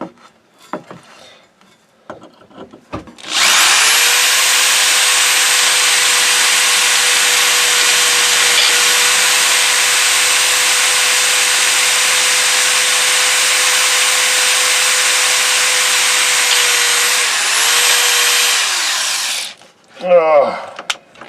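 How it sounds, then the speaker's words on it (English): A power drill whines loudly and steadily as it bores a pilot hole into wood for around sixteen seconds, then winds down and stops. "This isn't the final hole, I'm going to drill another one."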